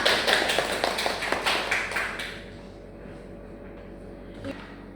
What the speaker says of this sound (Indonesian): Beri aplaus untuk Kaila